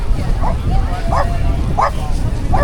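A dog at a Buddhist monks' peace walk gives four short, evenly spaced bow-wow barks, fairly close, over outdoor crowd murmur and talking.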